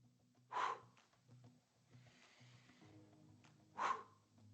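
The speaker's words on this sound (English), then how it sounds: "Take a big, full breath in, and then quickly push it all out." During a stress-management breathing exercise, a person draws a breath and pushes out two sharp, forceful exhales a few seconds apart, close but quiet, over a low steady hum.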